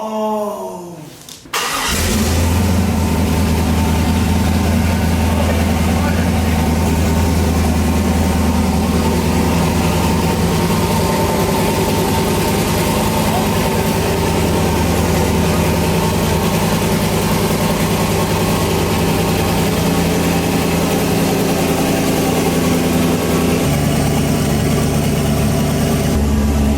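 A turbocharged LS-swapped Infiniti G35 fires up and settles into a loud, steady, deep idle that runs on for nearly half a minute, close by.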